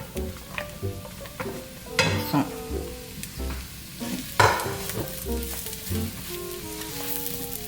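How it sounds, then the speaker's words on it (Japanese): Sliced mushrooms frying in a pan, a steady sizzle broken by clinks and scrapes of stirring, with a few louder knocks of utensil on pan and no talking. "スライスしたマッシュルームいきます。"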